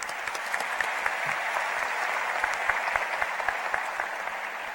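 Steady applause from a graduation ceremony crowd at a high school, a dense wash of clapping that holds at an even level throughout with no voices standing out.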